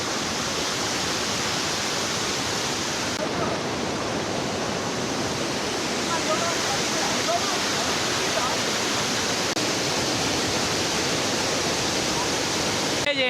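Polluru waterfall in the Maredumilli forest roars as a steady, loud, broadband wash of falling water that holds unbroken throughout, with no voices audible over it.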